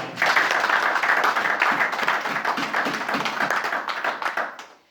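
A church congregation bursts into sustained applause for the Lord Jesus, many hands clapping loudly and close together in a dense rhythmic patter that carries on for several seconds before fading out.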